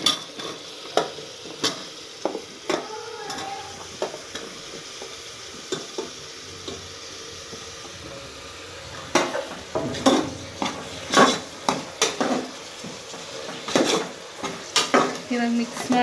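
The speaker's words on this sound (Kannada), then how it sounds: "ಇವಾಗ ಇದಕ್ಕೆ ನಾನು ಮಶ್ರೂಮ್ಸ್ ಹಾಕ್ತಾಯಿದ್ದೀನಿ" Mushrooms with green chillies frying in a pan, a soft sizzle under repeated scraping and clattering of a utensil stirring against the metal, the stirring strokes coming in irregular bursts that grow busier toward the end.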